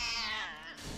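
A single cartoon cat meows in an anime episode, one short drawn-out cry that falls in pitch and sounds close and clear, with no talk over it.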